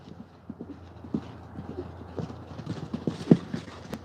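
A horse stomps and clip-clops during a horseplay and horsemanship session, with scattered hoof thuds of varying strength and one sharp close stomp near the end, under quiet background noise.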